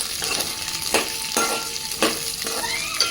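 Spices frying in a pan for a chutney made with tamarind and green chillies, a steady sizzle broken by regular scraping strokes of a spoon, close and without voices.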